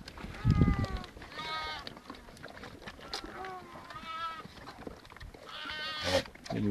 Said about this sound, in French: les brebis, les moutons, les chèvres, tout le monde sort de l'enclos